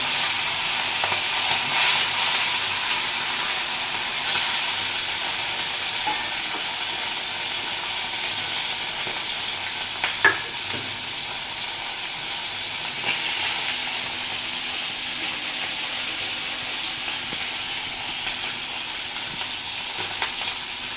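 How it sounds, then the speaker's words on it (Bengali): Fish pieces frying in hot oil fill the clip with a steady, close sizzle and hiss, with a few brief louder pops around the middle and no talking. "আর যে কটা বাকি আছে সেইগুলো তেলে ছেড়ে দিলাম।"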